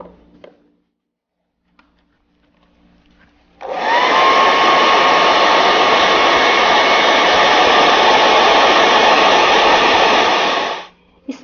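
A hair dryer runs close and loud for about seven seconds in a steady whooshing roar, drying freshly painted craft paint on a decorated wooden box before a second coat is applied.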